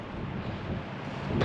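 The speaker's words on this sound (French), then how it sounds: "Le vent, il pousse tout le sable un peu partout, là." Steady wind blows loose sand around an abandoned seaside town, a continuous low rushing roar that buffets the microphone for the whole stretch with no talking.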